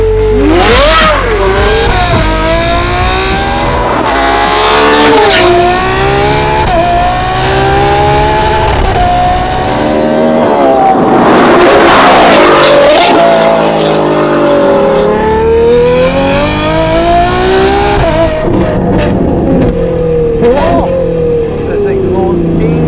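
A 6.5-litre naturally aspirated V12 supercar in the desert screams through repeated loud revs and upshifts, the pitch climbing and dropping in long sweeps, with a voice talking over it at times.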